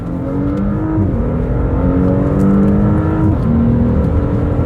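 An Audi SQ5 engine revs loud and close, a sustained throaty drone whose pitch climbs and falls across several steady sweeps.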